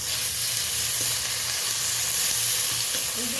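Onions and tomatoes fry in a pan with turmeric and ginger paste, giving a steady, close crackling sizzle that runs evenly without any talking.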